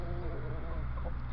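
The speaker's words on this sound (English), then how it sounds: "is Sid, who is not too impressed with another cockerel being around." A rooster in a small backyard flock makes faint, low clucking sounds close by, set against a quiet, steady background hum.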